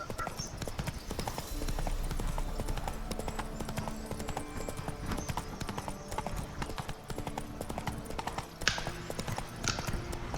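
Horse hooves galloping at a steady clip-clop in The Witcher 3, with a single whinny, running over a busy game soundscape of music and ambience. A voice speaks briefly over it.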